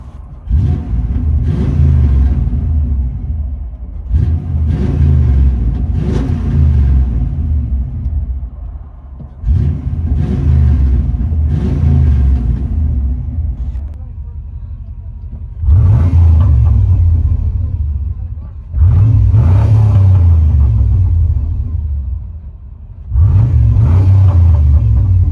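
A Chevy Silverado 1500 with a 5.7-liter V8 and Dynomax Race Bullet mufflers in a true dual into single exhaust revs repeatedly, deep rumbling bursts rising and settling over idle, loud and near.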